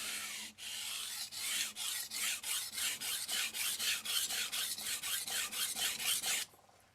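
A Tojiro Professional R2 santoku knife, 170mm, worked on a Naniwa Chocera 400 whetstone: about twenty steady, rhythmic rasping strokes back and forth, close and clear, then stopping, with no talk.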